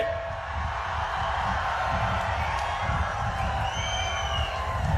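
A large crowd at a political rally cheering and clapping, a dense continuous roar of voices and applause with scattered whoops, sustained at an even, loud level.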